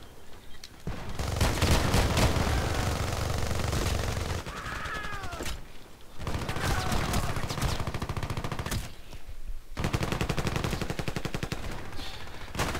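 Rapid bursts of SKS rifle fire with a heavy barrel in a video game crackle in long strings, pausing briefly between volleys, with game sound effects and occasional talk mixed in.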